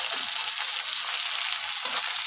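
Onions and chilies fry in oil with a steady, bright sizzling hiss, a couple of soft stirring knocks breaking through the continuous crackle.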